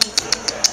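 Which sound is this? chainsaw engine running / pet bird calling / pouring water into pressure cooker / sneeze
pet bird calling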